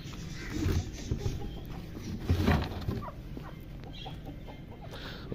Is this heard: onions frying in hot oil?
no